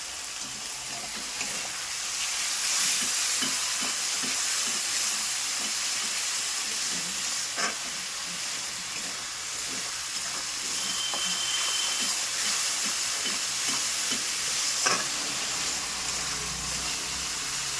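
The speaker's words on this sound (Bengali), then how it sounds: "হাই ফ্লেমের মধ্যেই এই মশলাটা আমি কষছি।" Spice paste frying on high flame in a pan for a vegetarian jackfruit curry, a continuous loud hiss and sizzle with occasional crackles and stirring taps, close and without talk.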